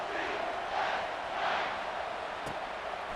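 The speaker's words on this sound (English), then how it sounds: "And this crowd is ready for a big one." Stadium crowd noise at a UCF versus NC State college football game, a steady broad roar of many voices swelling slightly at moments as the kickoff team lines up, continuous and fairly loud throughout.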